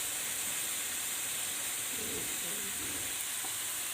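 Dinuguan, a pork blood stew, sizzling in a pan, a steady close hiss of frying that runs unbroken throughout with a few faint stirring knocks underneath.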